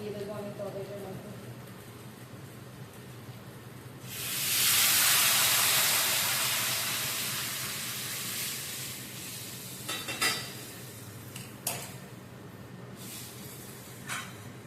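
Hot water poured into curry cooking in a pan brings a sudden loud hiss and sizzle that gradually eases, followed by a few sharp clinks and stirring sounds.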